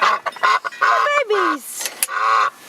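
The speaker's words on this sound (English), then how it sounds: "How many people in the city have to go get their ducks and bring them inside, huh?" Domestic ducks honk and quack in loud, close bursts outdoors during a blizzard, several calls in quick succession from a small flock, with no talk over them.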